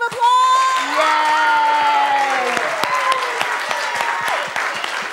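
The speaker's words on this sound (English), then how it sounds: "So let's give our wonderful, wonderful Lily and her friends another round of applause." Applause and cheering from an audience at an anniversary celebration, steady clapping sustained throughout with whoops and shouting voices layered on top.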